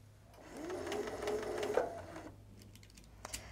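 A sewing machine runs a short seam on a pineapple quilt block, its quiet motor whirring up for about two seconds and then stopping, followed by faint handling clicks.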